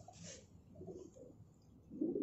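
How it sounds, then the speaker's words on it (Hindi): A pet Teddy pigeon coos softly up close, a few low, faint murmuring calls spread over a couple of seconds in a quiet room. "जी ये टैडी कबूतर है मेरा"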